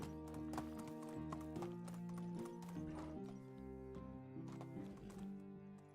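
Horse hooves clop in steady galloping rhythm in the medieval game Medieval Dynasty, close and continuous over a sustained musical score, with no talk during the run.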